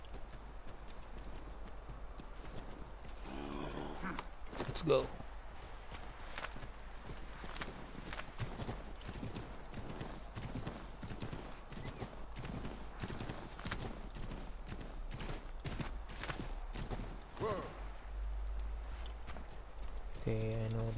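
A horse in Assassin's Creed III gallops with quick, steady clip-clop hoofbeats that run for the whole stretch at a moderate level, while someone talks over them.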